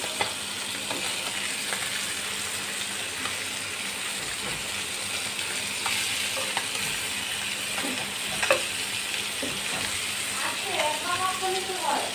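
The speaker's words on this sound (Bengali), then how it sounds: "আস্তে আস্তে ভেজে নেব, কারণ এই মাছটা খুবই সফট" Poa fish fries gently in a pan with a soft, even sizzle and hiss throughout, occasional light utensil touches and a faint background voice.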